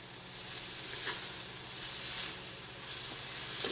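Noodles and onions frying in a pan over raised heat, a steady hissing sizzle with a few faint stirring clicks, close and fairly quiet with no talking.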